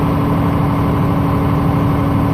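A Case 5240 tractor engine running steadily in a peat bog, a loud, close, continuous mechanical drone with a constant tone and no talk over it.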